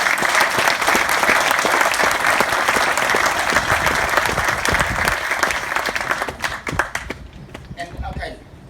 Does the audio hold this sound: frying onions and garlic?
no